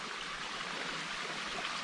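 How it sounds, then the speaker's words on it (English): A small trail waterfall and stream trickling steadily after a dry summer, a constant close broadband wash of running water with no voices. "Here's one of those little waterfalls I was telling you about."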